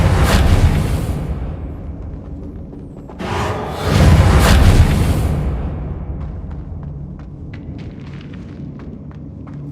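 Deep booming explosions rumble through a Call of Duty match: a broad blast at the start, then a second, heavier roar a few seconds later that slowly decays into scattered debris clicks and low noise.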